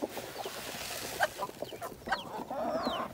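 Meat chickens cluck and chatter close by, feeding from an old paint tray, with scattered short calls and a few squawks over a busy farmyard background.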